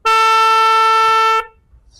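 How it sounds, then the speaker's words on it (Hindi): A siren horn fitted to a modified Honda CD70 motorcycle blasts one loud, steady, bright tone for well over a second, then cuts off abruptly into near silence. "और ये हमारे पास जी ये सायरन हॉर्न है। हॉर्न में भी दो तरह की फंक्शनैलिटी हैं।"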